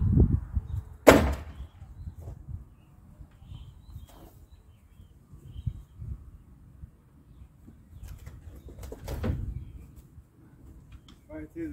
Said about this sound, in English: I want to throw it and stick it in that door claw first.